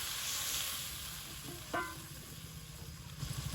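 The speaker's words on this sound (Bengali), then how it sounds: "হলুদের গুঁড়ো দিয়ে দিলাম, দিয়ে দিচ্ছি পরিমাণ মতো জল" Water poured into a hot pan with turmeric powder sets off a steady frying sizzle and hiss while fish curry cooks in a village kitchen, with a brief splashy burst partway through and light stirring clatter.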